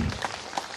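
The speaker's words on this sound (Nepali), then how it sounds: "अहिले ताली लगाइदिनु होला" Audience applause at a ceremony for the Aapkhola drinking water project, a short burst of dense clapping that fills the brief moment without any voice over it.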